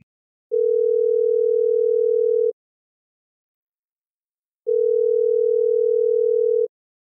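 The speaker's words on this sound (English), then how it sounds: "let's see if we can get Jakob on the line." Two steady telephone tones of about two seconds each, separated by a long silent gap, sound while a call is being placed on a phone line; there is no talk over them.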